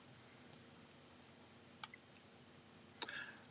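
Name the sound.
computer mouse clicking an icon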